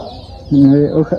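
Backyard laying hens give a brief run of clucks up close, a short rising call followed by a couple of quicker clucks.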